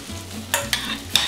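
Blackberry and port wine sauce spooned into a hot pan, a short stretch of sizzling with a few sharp stirring and scraping clicks close by.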